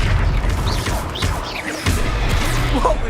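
Confringo fire-blast spell cast during a troll attack in Hogsmeade in Hogwarts Legacy, with repeated loud booming impacts and crashes over dense, rumbling battle noise.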